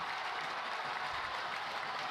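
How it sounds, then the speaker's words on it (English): Steady crowd noise at a sunny high school baseball game in Sulphur, a broad continuous roar of cheering and applause from the stands, moderately distant and unbroken for the whole span, with no talk over it. "Boy, you can hear this crowd."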